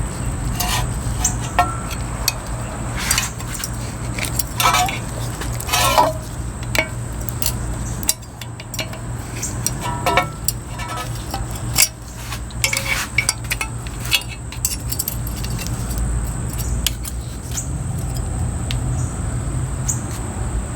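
Flathead screwdriver prying a part off a Camry steering knuckle, giving scattered metallic clinks, scrapes and taps at close range, irregular and moderately quiet over a steady background hum.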